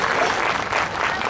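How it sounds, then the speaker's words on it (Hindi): An audience at a comic poetry recital by a famous hasya kavi applauds in a brief, dense burst of clapping that stays loud and close. "हाँ ताली भी बजा दी आपने"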